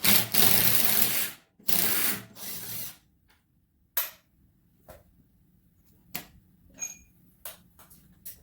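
A ratchet with a 3/8 socket works on the bolts of a Scag mower's hydrostatic transmission shroud, giving a few loud bursts of rapid clicking followed by sparse, sharper ticks and clinks, close and without talk.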